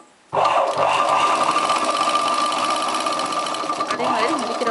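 A sewing machine stitches a chudidar top, starting abruptly and then running steadily at a loud, even hum for several seconds without pause.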